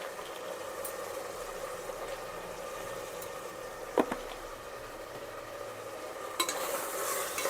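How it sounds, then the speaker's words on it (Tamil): Tomatoes with a little salt sauté in a pan while being stirred, a soft continuous sizzle with occasional scrape and clink of the spoon against the pan, steady and fairly faint throughout. "கொஞ்சம் லேசாக உப்பு போட்டு வதக்கினோம்னா சீக்கிரமாக தக்காளி மசஞ்சிரும்"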